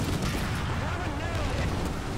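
A deep Sherman Jumbo tank cannon blast in the video game War Thunder rumbles under steady engine drone and heavy low noise, loud and continuous throughout.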